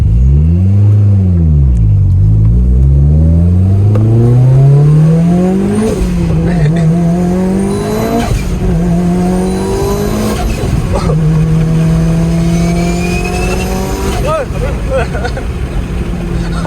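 A Mitsubishi Evo 7 revs hard and accelerates through repeated gear pulls, engine note climbing and dropping in sweeps, loud and close from inside the car, with a skid around a U-turn.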